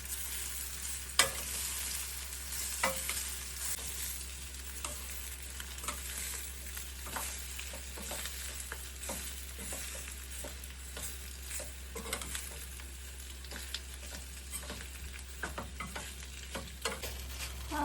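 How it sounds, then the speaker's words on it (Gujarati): Muthia dhokla is stirred and mixed in a pan, a continuous soft sizzle with scattered scraping ticks of the spoon running steadily throughout, no voices. "હવે આપણે એને વ્યવસ્થિત મિક્સ કરી લઈશું"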